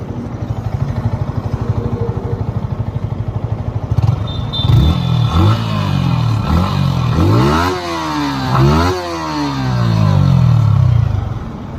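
Yamaha MT-15 version 2.0, a 2024 model on its stock exhaust, idles with a steady putter and then blips through a series of sharp rising and falling revs, loud and close, with no voices.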